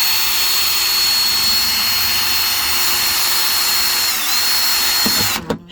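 A power drill bores holes into a plastic bucket being made into a chicken waterer, a loud, steady high whine running close and continuous before cutting off abruptly at the end.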